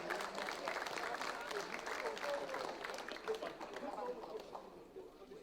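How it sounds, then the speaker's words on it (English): Crowd applause for fighter Rustam Babayev at a KOTT 14 match, a dense steady wash of clapping and cheering that holds at full level for several seconds before easing slightly, with voices mixed in. "round of applause for Rustam Babayev"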